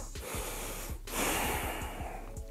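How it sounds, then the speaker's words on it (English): Heavy, audible breathing after a hip-strengthening workout, close up, with a strong huffing exhale in the middle over steady background noise and no talking. "Whew, take some breaths."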